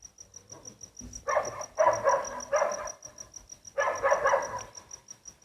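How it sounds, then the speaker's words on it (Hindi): A dog barks at night in a series of several loud, close bursts of about half a second to a second each, with a steady chirping cricket or insect running underneath. "ये कुत्ता मुसलसल जो भौंक रहा है ना,"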